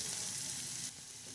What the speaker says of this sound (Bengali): দেখো পেঁয়াজটা ভাজা হয়ে যাচ্ছে